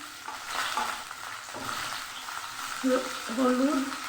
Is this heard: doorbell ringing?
no